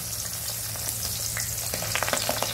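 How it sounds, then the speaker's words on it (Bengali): Pabda fish fry in hot oil in a wok with a steady, close, dense sizzle, sharper crackles and pops picking up toward the end, no voices. "একে একে আমি মাছগুলো ভেজে নেব।"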